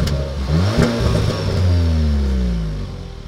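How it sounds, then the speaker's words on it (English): A Hyundai Veloster's engine revs up in a few rising and falling bursts, loud and close, with no voices. "rev the engine a little bit."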